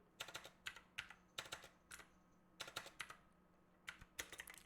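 Keys clack on a computer keyboard as a command is typed on a Windows 11 PC, quick bursts of close, quiet keystrokes separated by short pauses, with no talking.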